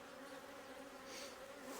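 Honey bees buzz as they are shaken off a hive frame, a soft, continuous swarm hum that stays faint and even throughout with no voices.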